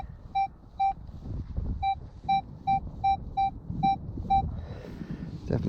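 Minelab Equinox metal detector giving a run of about ten crisp, evenly pitched beeps in quick succession over a low rumble of sweeping and outdoor background noise.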